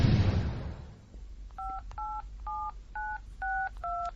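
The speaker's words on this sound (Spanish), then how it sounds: "Intentar llamar a un número extraño y larguísimo." A mobile phone dials a long number as six evenly spaced two-tone DTMF beeps, close and clear, following a brief burst of noise at the start.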